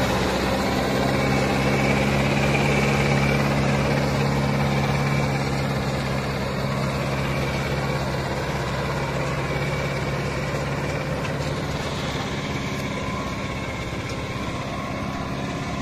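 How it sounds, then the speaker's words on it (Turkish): A New Holland TD590 tractor engine runs steadily at idle, a loud, close, continuous low diesel rumble with a constant hum and no speech over it. "Yakacağım motor arkadaşlar."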